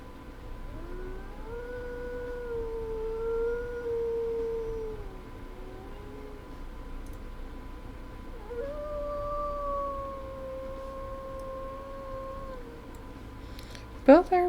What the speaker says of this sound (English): Listen to her howls real quick